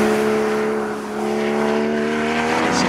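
A Porsche Cayman GTS sports car, lowered 20mm from the normal Cayman, drives past with a steady, loud engine drone and a slight dip before building again, with no talk.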